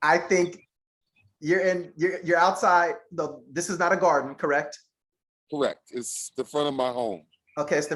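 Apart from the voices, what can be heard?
None of the usual background noises is heard.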